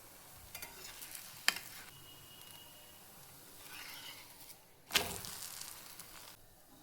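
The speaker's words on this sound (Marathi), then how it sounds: "दोन्ही साईड पण व्यवस्थित भाजायचे आहेत. तेल लावायचे दोन्ही साईडनी पण." Faint sizzling and soft scraping of onion coriander dhapate flatbread roasting with oil on a hot pan, a low steady hiss broken by a few sharp spatula clicks and one louder scrape.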